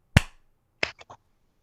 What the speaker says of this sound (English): We are going to do a sync clap